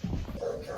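A young child imitating a dog, giving a short whimpering, yippy vocal sound close up and alone.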